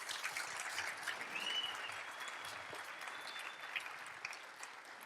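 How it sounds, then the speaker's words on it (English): An audience at a talk with a wrestling champion applauds in a steady, even wash of many hands, heard faintly and from a distance, with no voices over it. "Round of applause right there."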